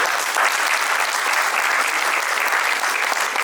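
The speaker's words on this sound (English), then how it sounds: "let me have a good round of applause for the educators" An audience at a panel discussion on education breaks into a dense, even wash of applause, steady and fairly loud throughout with no voices on top.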